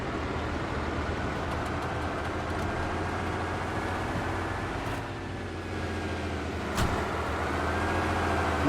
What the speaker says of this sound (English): whoever's truck is coming up the hill right now